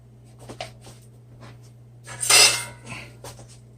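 Beaten eggs go into a pan for tornado-style scrambled eggs, with light clinks of utensils against the pan and a brief louder rush of sizzling and scraping midway, close and fairly quiet over a steady hum.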